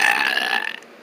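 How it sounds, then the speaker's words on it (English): A single long, loud burp right after a big lunch, close to the mic and trailing off toward the end, with no talking over it. "What a burp you did there"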